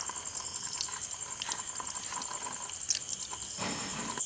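Water is poured during a magic trick, making a faint, close trickle with soft splashes and a few small drips, and no talking.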